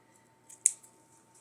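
Scissors cutting a small piece off plain red ribbon: a single crisp, close snip in an otherwise quiet room, with a faint rustle just afterwards.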